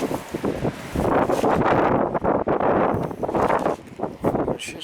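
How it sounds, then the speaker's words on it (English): Strong wind gusts roar steadily across the microphone outside a summer cottage's main house, a broad rushing noise that swells and dips over several seconds, loud and close with no talking. "This is really awful windy here."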